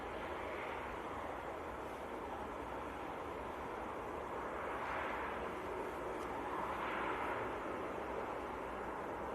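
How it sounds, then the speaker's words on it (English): An Aer Lingus airliner from Dublin at Manchester Airport in freezing weather, a steady broad roar of jet engines rising and swelling slightly as it passes, with wind noise over the microphone and no talk. "There went your Aer Lingus from Dublin."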